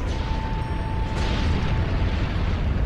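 Continuous rumbling explosion noise in the video game Disgaea 4, deep and dense, with crackling bursts layered over a steady low roar and a faint whine.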